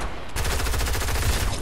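Rapid automatic gunfire in the Fortnite video game, a dense burst of rattling shots starting abruptly and continuing steadily for over a second, loud and close.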